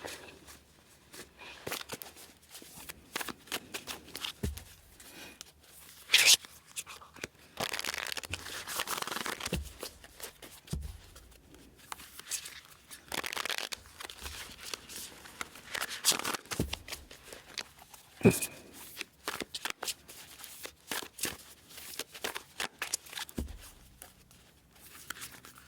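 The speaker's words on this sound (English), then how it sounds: "I'm just going to shuffle this deck out real good." A tarot card deck being shuffled by hand, with repeated riffles, slides and rustles in irregular bursts, close and moderately loud, continuing for a long stretch without talking.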